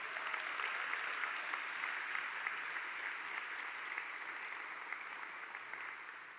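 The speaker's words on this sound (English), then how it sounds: "can we get a big round of applause to this Letcher County group for all the work they've done to help our people?" Applause from a large summit audience honoring a Letcher County group, a broad, even wash of clapping heard from some distance, fairly quiet and slowly fading toward the end.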